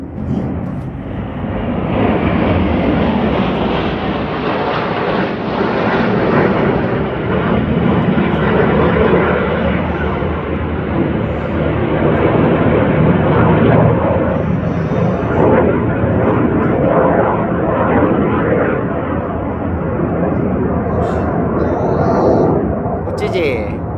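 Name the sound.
Swiss Air Force aircraft flying at air show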